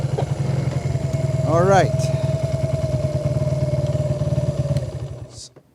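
A small 125cc motorbike engine, freshly repaired, idles steadily up close, a brief revving rise partway through, then cuts off; someone speaks briefly.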